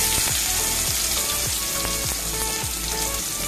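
Onions sauté in a pan over strong heat with a loud, dense, unbroken sizzle that stays close and even throughout, with no voices over it.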